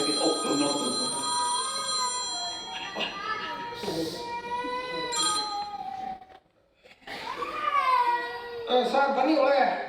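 A telephone rings on stage during a Kannada drama performance, its warbling trill heard in bursts under and between overlapping voices, with a short lull in the middle.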